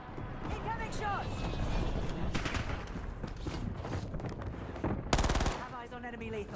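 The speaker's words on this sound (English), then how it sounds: "Incoming shots." Machine gun fire in the Warzone video game, with bursts of rapid automatic shots over a busy, noisy game mix, including a sharp loud burst near the end, while a voice talks throughout.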